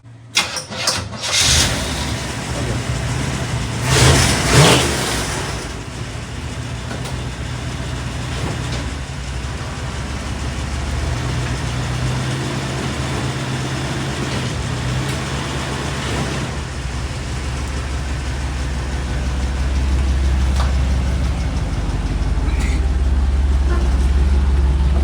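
A 1975 Chevrolet Monza's 350 V8 cranks and fires up, then settles into a steady, rumbling run that grows louder and deeper toward the end, with some talk over it.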